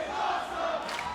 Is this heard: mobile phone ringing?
no